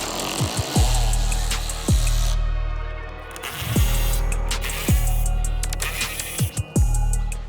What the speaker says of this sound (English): grab our 10mm socket and remove 4 10mm screws in the wheel well